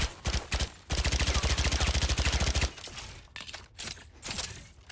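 Automatic fire from the RGX Specter submachine gun in the Valorant shooter game: a fast, even burst of close, loud shots lasting about two seconds after a short opening volley, then quieter in-game action.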